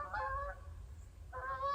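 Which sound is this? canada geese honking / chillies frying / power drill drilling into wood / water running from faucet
canada geese honking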